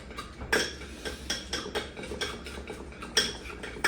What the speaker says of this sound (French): une petite shot de sel, une petite shot de poivre là-dedans. On va brasser ça.